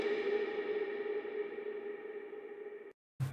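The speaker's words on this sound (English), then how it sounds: "Then we have these bongo hits as well with just a bunch of reverb on them." A bongo hit drenched in reverb rings out with a long tonal tail for nearly three seconds, stops abruptly, then a second hit begins.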